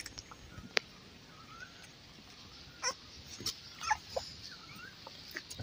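A male beagle puppy gives faint, scattered whimpers and small yips while playing, with a few brief knocks and rustles over a quiet background.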